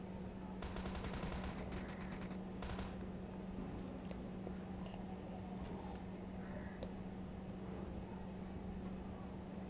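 Thompson submachine gun fire in PUBG crackles in a few rapid bursts early on, then scattered faint shots over a low steady in-game hum, all fairly quiet.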